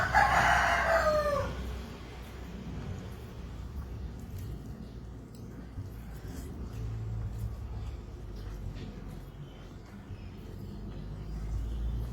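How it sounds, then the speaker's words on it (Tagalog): A rooster crows loudly once at the start, then the scene settles into low background rumble and faint ambient noise. "Ang ingay ng manok."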